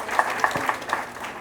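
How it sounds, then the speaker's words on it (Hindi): Brief burst of audience applause honouring a stage host at an event, a short wash of clapping with a few sharper claps standing out. "इनके लिए तालियां जरूर होनी चाहिए।"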